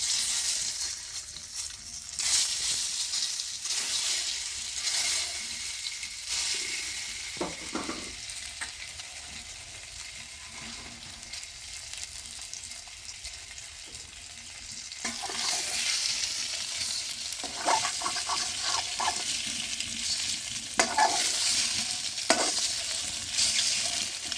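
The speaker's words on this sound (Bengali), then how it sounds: "এবার ডিমগুলো ভেজে নেব" Eggs frying in oil with turmeric sizzle steadily up close, with repeated scraping and stirring of a spatula in the pan and no talk.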